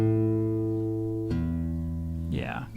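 An acoustic guitar being retuned, sustained plucked notes ringing and shifting in pitch as the strings are adjusted, with a fresh strum near the middle and a brief squeak toward the end.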